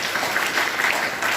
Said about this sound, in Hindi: तालियां बजा लीजिए